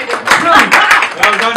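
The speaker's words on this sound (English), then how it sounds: "give him a round of applause, ladies and gentlemen" A comedy club crowd breaks into short, dense applause, a quick burst of clapping lasting under two seconds.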